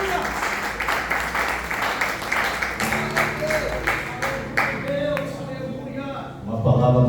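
A church congregation at a family worship service applauds, a loud continuous rush of clapping with rhythmic surges that fades over several seconds as a voice and music come in near the end.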